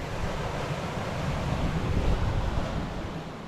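Sea waves breaking along the shore below a coastal fort near Alibag or Murud, heard as a steady broadband wash with wind noise, rising slightly around the middle, with no talk.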